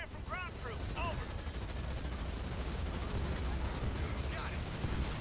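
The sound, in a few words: gunfire from ground troops in the video game Halo Wars 2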